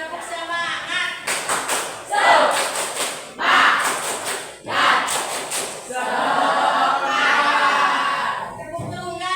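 Children clap in a rhythmic clapping game, bursts of loud group claps in patterned single, double and triple beats, separated by brief pauses, with voices mixed in.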